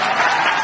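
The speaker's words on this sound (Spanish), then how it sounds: "Aplausos en este caso para la candidatura elegida." Applause breaks out for the newly elected candidacy heading the Hermandad de Nuestra Señora del Rocío de Huelva, a brief, dense burst of clapping from a crowd.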